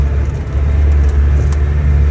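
A car drives steadily along an overland route in Mauritania, its engine and road rumble forming a loud, continuous low drone throughout with no breaks.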